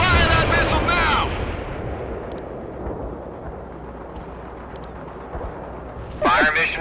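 Missile and airstrike explosions in the Cold War strategy game World in Conflict rumble as a long, heavy, rolling blast, with clipped radio voices speaking at the start and returning near the end.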